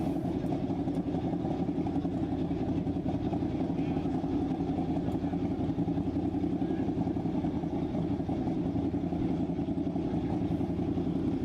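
AA Fuel Streamliner race car idling with a steady, rough engine rumble at a moderate distance, continuous and unbroken, with a voice talking over it.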